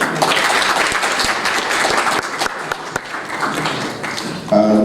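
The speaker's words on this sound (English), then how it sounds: "Please give him a round of applause" An audience at a political parties dialogue gives a round of applause, steady dense clapping with a few sharper individual claps, fading slightly before a brief tonal sound at the end.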